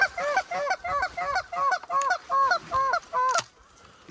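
Canada goose in a Kansas wheat field during a waterfowl hunt, giving about nine loud, rhythmic, evenly spaced honks close by, followed by a brief sharp noise and near silence.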